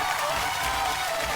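Clapping from the audience of a Marathi women's TV show, cheering for Asmita Tai; a soft, even wash of many hands that runs throughout, somewhat distant and muted, with no voices over it.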